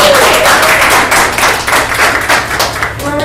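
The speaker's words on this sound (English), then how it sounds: "let's give him a round of applause" Loud, close applause for guest Mark Menezes at a team meeting, dense clapping from a small group with a few sharp individual claps, tapering unevenly toward the end.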